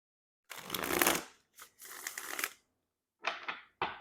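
Oracle card deck being shuffled by hand in two long riffling runs, then a few shorter bursts of cards slapping and sliding, close and crisp with no voices.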